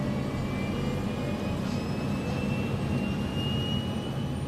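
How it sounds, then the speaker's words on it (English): Jet engines of a LAPA Flight 3142 airliner roar steadily as it accelerates down the runway for takeoff, a loud continuous rumble with a faint rising whine above it, no talk heard. "The airplane is on the runway, accelerating, getting faster."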